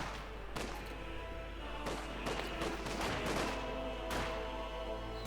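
MG-42 machine gun fire during a Company of Heroes 2 infantry battle with Grenadiers: sharp bursts of shots crackle over a constant, dense wash of battle noise.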